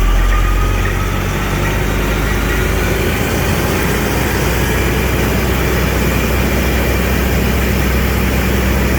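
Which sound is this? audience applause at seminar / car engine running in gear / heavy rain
car engine running in gear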